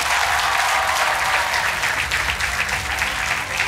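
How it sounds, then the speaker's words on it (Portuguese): A studio audience on a quiz show applauds its champion, a loud, continuous roar of many hands clapping that holds steady throughout. "Um aplauso para o Francisco, que é o nosso campeão"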